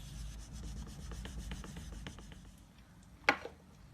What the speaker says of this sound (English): use our spoon, the back of a spoon, to rub it